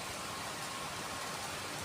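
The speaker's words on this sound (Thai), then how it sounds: "ว่าฝนจะตกด้วยลมแรงครับดู" Steady hissing rain falls with strong wind in a dense, even wash of noise, soft and unbroken, with no voices.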